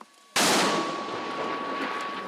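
A single sharp, loud mortar or artillery shot in the Kharkiv region war zone bursts out of near silence, then a long echoing decay with a faint steady tone lingering underneath.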